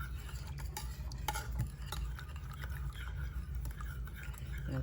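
Chicken pieces worked around by hand or spoon in a wet marinade make quiet squelching, slapping stirs in an irregular rhythm over a low steady hum.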